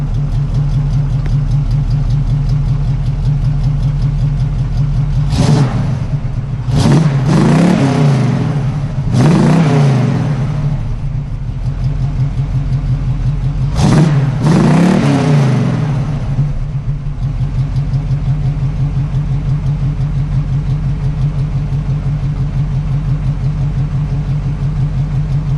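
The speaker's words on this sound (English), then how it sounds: "This is the old exhaust system and what it sounded like." A car engine on its old exhaust system idles with a deep steady rumble, broken by several sharp revs that climb and fall back, two close together early, then another pair, loud and near with no talk.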